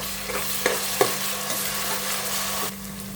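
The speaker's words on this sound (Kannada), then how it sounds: "ಇದು ಸ್ವಲ್ಪ ಹಸಿ ವಾಸನೆ ಹೋಗೋ ತನಕ ಫ್ರೈ ಮಾಡ್ಕೊಳ್ಳೋಣ ಇದನ್ನು" Ginger, garlic and green chili paste fries with onions in hot oil for a wedding-style vegetable biryani, a steady close sizzle broken by a few sharp stirring clicks, with no talking.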